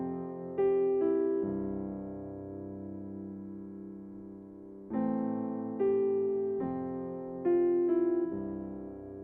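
Solo piano plays the intro and verse of the worship song "Your Presence Is Heaven" in C, with sustained chords and a few struck melody notes ringing out clearly and alone.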